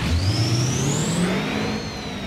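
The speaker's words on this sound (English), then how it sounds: "Your truck sounds like a fart." A diesel dually truck engine in the video game BeamNG.drive revs up close, its pitch climbing steadily then settling into a loud, droning whine.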